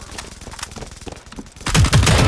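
Gunfire in Valorant Mobile played on an iPhone 6: rapid automatic shots crackle in a fast stream, then a louder, heavier burst of shots lands near the end.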